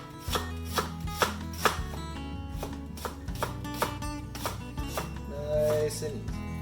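A knife chops onions on a cutting board for French onion soup, a series of crisp, evenly spaced close knocks with a steady forward rhythm.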